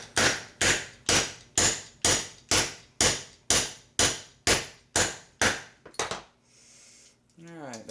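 A hammer drives a pin through the hammer of a Stevens 107B/94H shotgun during receiver reassembly, striking about twelve sharp, evenly spaced metallic blows up close before stopping and giving way to a brief scraping handling noise.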